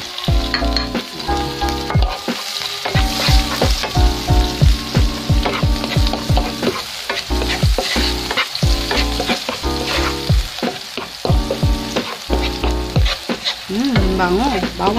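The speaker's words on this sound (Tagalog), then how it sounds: "So ngayon ilalagay ko na po natin yung bawang." Garlic fries in oil left in a pan from frying tofu, a loud close sizzle with crackling bursts and repeated stirring scrapes in a steady rhythm.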